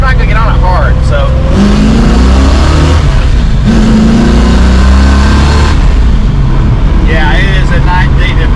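A car with a TKX transmission and Holley Sniper 2 EFI accelerates in first gear, its engine revving loudly and rising in pitch, with people talking over the engine noise throughout.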